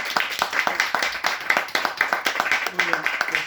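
Audience clapping at a book presentation, a few sets of hands giving sharp, distinct claps in an uneven rhythm, close and moderately loud, with some talk mixed in.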